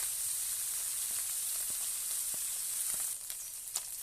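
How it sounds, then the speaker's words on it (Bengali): Close, steady sizzle of small puti fish frying in hot oil, crackling continuously with a few soft pops and light taps toward the end. "এবার দিয়ে দেবো ওর মধ্যে, দিয়ে এটাকে ভেজে নেব"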